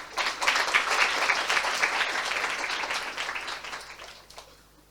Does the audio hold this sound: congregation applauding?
yes